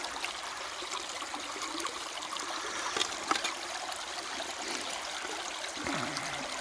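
Steady broadband rushing of creek water flowing over rocks beside a gold prospecting sluice in West Virginia, constant and close, with a few small knocks and splashes near the end.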